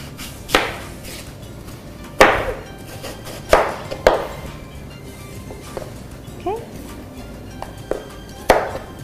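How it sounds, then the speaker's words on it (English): A knife chops through apples on a board in a home kitchen, sharp cuts landing irregularly every second or two with quiet gaps between them. "let's slice the apples."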